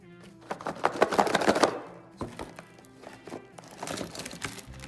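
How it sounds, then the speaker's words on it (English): A mystery fidget box being opened by hand, with close crinkling plastic and scattered taps and clicks, busiest in the first couple of seconds, then lighter handling noises. "Let's go ahead and open up our box number 4."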